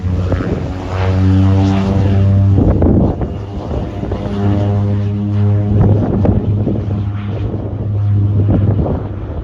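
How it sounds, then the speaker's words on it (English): A Loganair Twin Otter propeller aircraft taking off at Barra, a loud droning engine with a strong steady hum that swells and eases in waves, close by and alone. "I got to see that take off and depart for its return flight back to Glasgow"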